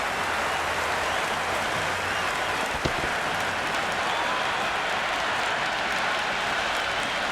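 Steady crowd applause and stadium buzz fill a Cricket 26 video game match after a six at a T20 World Cup fixture, a dense, even wash of clapping with one brief sharp click partway through.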